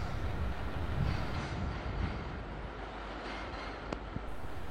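Class 86 electric locomotive 86248 pulls a passenger train out of London Euston in the 1980s, giving a steady low rumble of wheels and carriages with faint rail clatter, fairly distant and quiet, with no voices.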